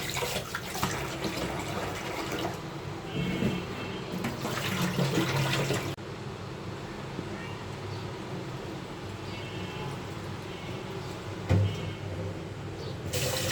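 Packaged rice being rinsed by hand in water, a continuous sloshing and swishing with a brief faucet-like rush, close and moderately quiet, with no talking.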